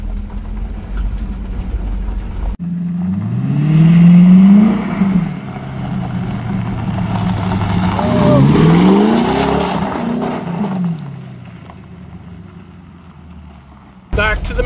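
A cheap Ford restomod project car drives over bouncy gravel, its engine droning and rising in pitch as it accelerates, with gravel crunch and rumble beneath and someone talking over the close, loud engine.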